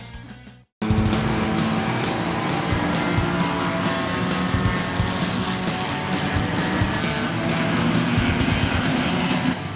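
Race cars roar steadily around a track in a Bandolero and Chihuahua race, a loud continuous engine drone with passing surges after a brief silent gap at the start.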